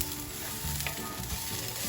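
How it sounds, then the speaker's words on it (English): Steady sizzling of browning onions frying in a pan, a continuous crackle with no voices. "the onions are almost there. They're browning"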